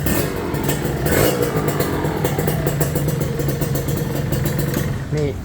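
A KR motorcycle engine revs and burbles close by, with throttle blips rising over a clattering idle, while a voice talks over it.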